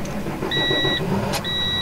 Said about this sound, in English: It's a fairly heavy duty tractor, and we'll review this first.